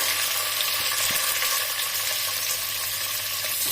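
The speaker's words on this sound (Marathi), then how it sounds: "आता यामध्ये मी बारीक लांब चिरलेले कांदे घालते" Sliced onions sizzle steadily in hot oil in a pan while cooking vegetable pulao, a continuous close hiss with faint stirring scrapes and no talking.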